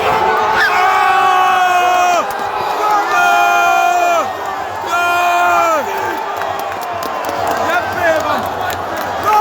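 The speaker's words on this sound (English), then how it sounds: "The stadium goes wild." Stadium crowd at an FK Sarajevo versus Zrinjski Mostar match erupts after a 90th-minute winning goal, a huge roaring chant rising in repeated waves of massed shouting and cheering.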